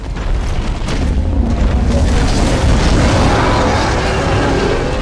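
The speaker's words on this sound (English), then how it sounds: "I want to try this grenade." A grenade blast in Borderlands 2 sets off a loud, sustained rumbling explosion that fills the whole stretch with dense, booming noise, with no talk over it.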